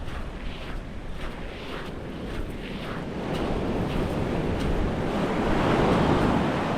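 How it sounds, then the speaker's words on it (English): Waves wash and break steadily on a fine shingle beach on the Jurassic Coast, a continuous broad roar of surf with wind buffeting the microphone, the swell growing slightly louder partway through. "we've got the sound of waves and surf"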